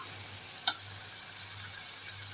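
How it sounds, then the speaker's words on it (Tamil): Tomato and onion fry in oil in a pan for a Tirunelveli fish curry, giving a faint, steady sizzling hiss with one brief clink of a utensil and a low background hum. "நல்லா தக்காளி வெங்காயம் வதங்கிட்டுருக்கு"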